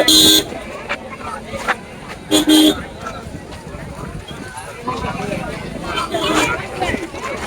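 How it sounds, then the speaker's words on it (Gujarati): Busy traffic on a road near Loteshwar fair, with car horns tooting in short bursts among engine rumble and crowd babble; voices talk throughout. "બધો ટ્રાફિક તો છે જો"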